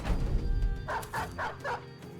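Dog barking in a video game, four quick evenly spaced barks at moderate distance following a low rumbling background, with no talk over them.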